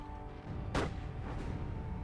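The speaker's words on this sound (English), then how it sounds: "The Canadian artillery opened up" Canadian artillery fires during the battle for Caen: a single dull boom sounds at a distance over a low rumbling background, followed by a fainter second thud.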